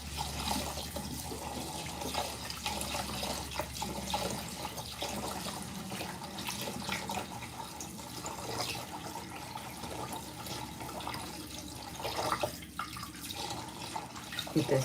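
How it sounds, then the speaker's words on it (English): Tap water runs steadily into a kitchen sink while about three cups of rice are rinsed, a continuous close splashing wash with no talking. "I'm washing about 3 cups of rice."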